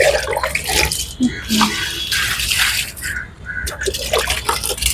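Water is poured and splashed outdoors onto garden plants in uneven gushes and trickles, close and fairly loud, with short pauses between pours and someone talking intermittently over it.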